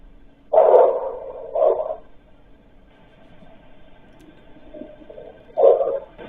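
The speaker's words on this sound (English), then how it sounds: "That's a dog." A played recording of a dog barking, heard as three muffled, low barks spaced apart, the first two close together and the last after a pause, with faint background hum between.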